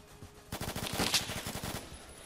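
An MP5 submachine gun in Roblox Phantom Forces unleashes a long rapid-fire burst of evenly spaced shots, close and steady, then trails off into quiet game ambience.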